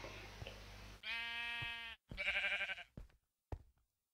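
Sheep bleating in the Minecraft video game, two loud, close, wavering bleats in quick succession followed by short knocking thuds, with no talking.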